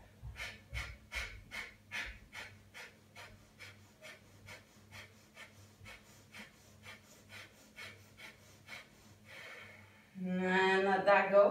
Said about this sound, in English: take a breath in, and four, fire breath